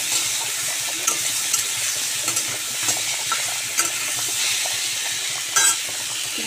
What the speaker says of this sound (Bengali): আলুর সাথে টমেটো আমি দিয়ে দিয়েছি, টমেটোটা হালকা করে আমি ভেজে নিচ্ছি।